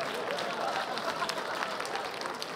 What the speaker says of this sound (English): Round of applause for the ass fuckers.